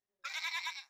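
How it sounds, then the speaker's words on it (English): A goat bleats once, close and loud, a wavering nasal cry of under a second that starts after a short silence. "goat"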